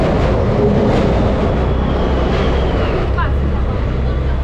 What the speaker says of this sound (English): Oh, there's a train passing on top of it.